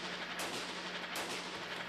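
Two sharp gunshots ring out on a city street, roughly three-quarters of a second apart, moderately distant over steady background noise with no talk.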